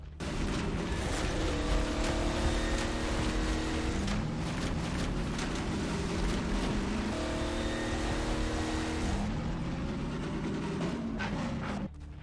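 A racing car engine in Half-Life 2: Episode 2 whines through repeated rising gear shifts, accelerating steadily with a sustained buzzing drone and no talking.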